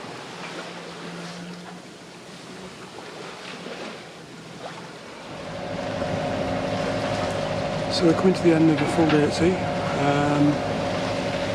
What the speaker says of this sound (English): As you can probably hear, we've got the engine on.